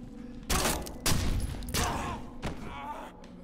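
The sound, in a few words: shotgun fire in video game Condemned: Criminal Origins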